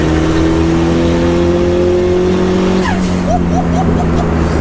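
A loud turbocharged, stripped-out 400-horsepower Japanese hatchback engine drones steadily at high revs, then the pitch dips and climbs again in quick chirping bursts as the car shifts and accelerates.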